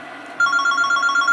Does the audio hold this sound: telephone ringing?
yes